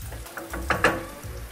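Spiced Bombay potatoes frying in a pan, soft sizzling with a couple of brief stirring scrapes, close and fairly quiet.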